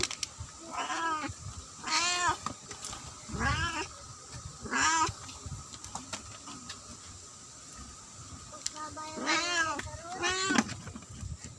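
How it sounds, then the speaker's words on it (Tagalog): A hungry cat meows repeatedly in rising, drawn-out calls, clustered in pairs with short pauses between, fairly close and loud against a quiet background. "huwag kang ngiyaw-ngiyaw dyan."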